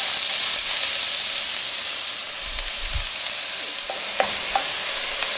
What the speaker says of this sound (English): Now we're going to add the onions.